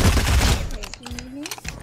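Assault rifle fire in Fortnite: a loud, dense burst of rapid shots in the first half-second, then quieter sounds as a voice talks over it.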